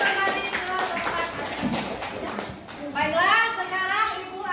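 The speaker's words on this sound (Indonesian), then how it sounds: "Tepuk tangan dulu." Schoolchildren in a classroom clap their hands together in a fast, rhythmic burst right after a teacher's instruction, with voices talking throughout and children's chatter rising at the end.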